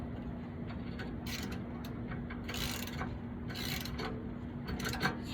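A DeWalt socket wrench loosens a bolt while a steering stabilizer is fitted to a 1992-96 Ford F-150, giving quiet clusters of rapid ratcheting clicks in short bursts over a low background hum.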